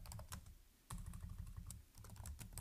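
Rapid keystrokes clatter on a computer keyboard while a comment is written into a spreadsheet, with irregular clicks close by and fairly quiet, with no voices.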